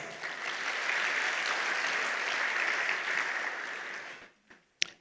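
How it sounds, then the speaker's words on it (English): An audience at a conference session on Uganda's digital ID claps for partner organisations, a dense, even applause that runs for about four seconds, then dies away with a few stray claps and a sharp knock. "I'll ask you to clap for those partners of ours."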